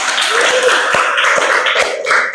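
A classroom group claps for a student group after its presentation, giving a short burst of dense, close hand claps with a few sharper taps standing out.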